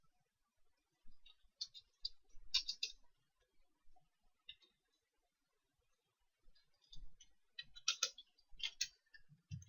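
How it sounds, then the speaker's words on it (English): Quiet clusters of keyboard clicks come in short bursts while dialog lines are typed for a game, with pauses between them. The keys sound soft and close, and no one speaks. "I'm pretty sure just typing in dialog lines."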